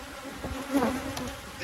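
Honey bees buzz around a hive during a summer dearth, a soft, close, wavering hum with one brief louder pass.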